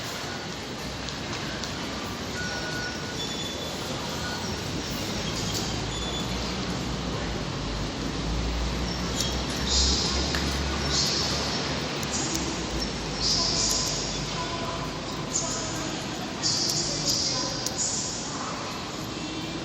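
Steady, busy indoor ambience of a train station, with a constant low rumble, scattered distant voices and occasional faint tones and clatter.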